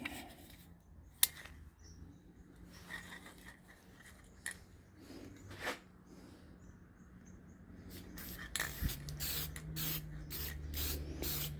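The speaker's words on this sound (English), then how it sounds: "take this can of polyurethane right here. We're going to spray it." A faint hiss of an aerosol can of polyurethane spraying in short bursts onto a sink cabinet floor, with soft clicks and handling noises around it, growing steadier toward the end.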